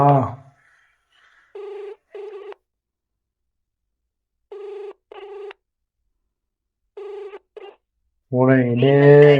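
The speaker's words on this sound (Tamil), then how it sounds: "ஃபோன் எடுறா" A telephone rings in repeated double bursts, three pairs in all, evenly spaced with silence between them. Voices speak briefly just before the first ring and again after the last one.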